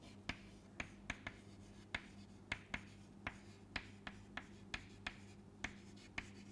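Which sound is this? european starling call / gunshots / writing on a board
writing on a board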